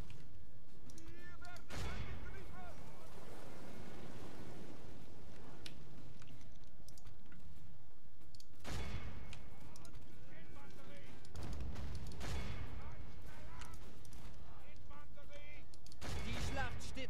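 Explosions in Medieval II: Total War boom in several heavy bursts, mixed with crackling gunfire-like noise and voices speaking in the background.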